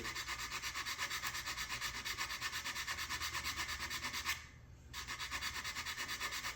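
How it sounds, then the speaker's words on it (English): Steady back-and-forth rubbing of sandpaper on small parts of a Model Shipways dory model boat, close and rhythmic, pausing briefly near the end before resuming. "So I think I'll just sand them down."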